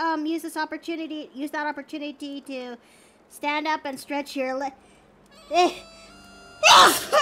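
A single sharp sneeze near the end, loud and close, following a stretch of a person talking.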